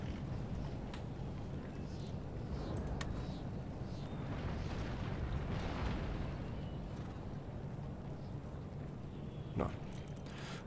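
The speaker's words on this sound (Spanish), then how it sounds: "Menos mal que tenemos cañones movibles." Cannon fire from mobile field cannons in an Empire: Total War battle: a steady, dense roar of rumbling blasts with a few sharper bangs standing out, and no voices.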